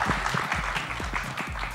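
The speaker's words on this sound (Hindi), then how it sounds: "तो विद्युत जामवाल के लिए एक बार जोरदार ताली होनी चाहिए।" Crowd applause for Vidyut Jammwal at a film trailer launch event, a steady dense patter of many hands clapping that carries through without pause.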